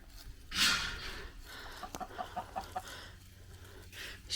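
A chicken recovering from a hard molt clucks softly near a farm coop, with a louder squawk early on, then a quiet run of short clucks over faint background noise.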